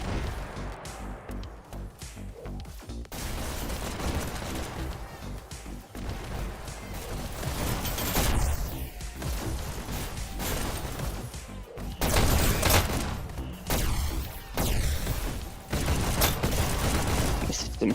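Dense gunfire in a VR shooter esports match, sustained volleys and heavy bursts that swell and fade, with a commentator's voice woven in.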